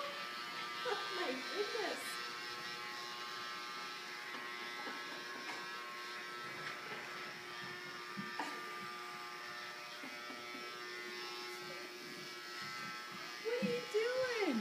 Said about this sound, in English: Do you have your own vacuum?